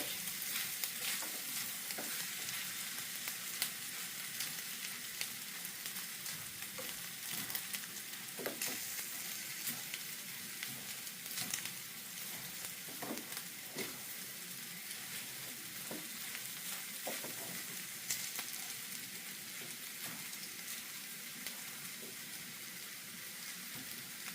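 Shredded cabbage filling for egg rolls sizzles and fries in a hot skillet, a continuous close hiss with scattered stirring scrapes and no talk.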